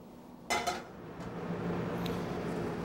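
A steel fry pan is set down on a stove to heat for seasoning. One clear metallic clank and a brief rattle give way to a low, steady hum.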